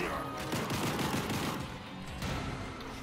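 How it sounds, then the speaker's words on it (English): Dense bursts of enemy gunfire from the video game Gotham Knights, rapid overlapping shots fairly close and continuous over game music and effects, with no talk over it. "They were shooting the big guy."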